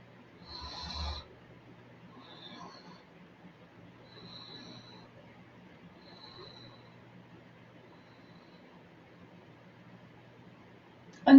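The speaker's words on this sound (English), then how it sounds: "Inhale, hold, inhale, hold, inhale, hold." Short, faint, nasal inhales in a pranayama breathing exercise during a restorative yin yoga session, each sniff followed by a quiet hold. The breaths come in a slow series, with a sharp sound right at the end.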